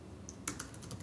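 Soft typing on a computer keyboard: a short run of light, quick key clicks after a brief pause, quiet and close with no voices.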